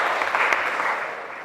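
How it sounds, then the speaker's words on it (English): Applause from an audience at a community meeting, honoring retirees for their work for the city; a steady, dense wash of clapping that stays even and fades slightly toward the end. "I think you all deserve a round of applause for the work that you've done for the city"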